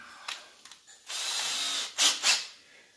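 A power drill with a small bit drills into wood in short bursts, then runs steadily for about a second before two more quick revving bursts, close and fairly loud.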